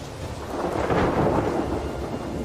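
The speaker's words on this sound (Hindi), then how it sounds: "और आखिरकार आसमान में काले बादल दिखाई देने लगे हैं। बरसात आ चुकी है।" A thunderstorm with heavy rain in Kakadu, where rolling thunder swells to a loud peak before easing, with dense rain noise continuing underneath.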